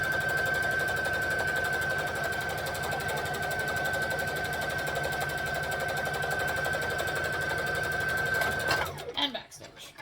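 A sewing machine runs a steady, fast stitching seam on a Kwik Sew K4172 project, a continuous dense mechanical whir with a thin whine, stopping abruptly near the end.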